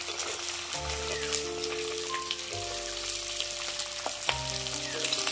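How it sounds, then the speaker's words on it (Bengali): Chopped onion and capsicum fry in a pan for restaurant-style chilli paneer, a steady crackling sizzle under a faint background hum with a few sharp pops. "ক্যাপসিকাম আর পেঁয়াজগুলো দিয়ে ভালো করে ফ্রাই করে নেবো"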